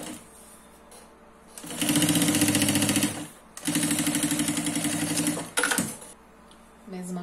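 A sewing machine stitches a fabric baby changing pad with a zipper, running in two long fast bursts of steady rapid needle chatter, loud and close, with quiet pauses between them.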